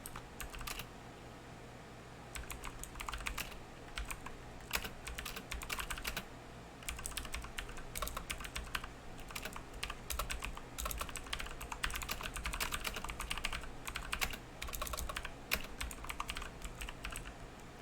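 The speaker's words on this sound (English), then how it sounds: "I think I'm just going to type what I just said" Continuous faint clicking of a computer keyboard being typed on, with irregular rapid keystrokes over steady background hum for the whole stretch, no voices.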